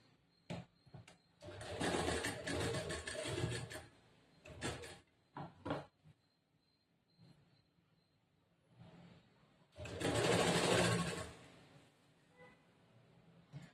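A sewing machine stitches a blouse seam in two loud bursts of a few seconds each, separated by quieter gaps with small clicks and handling sounds.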